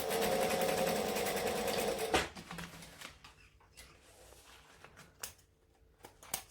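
A sewing machine fitted with a large size 18 needle stitches steadily for about two seconds, a loud continuous whir, then stops, leaving quiet handling clicks and taps.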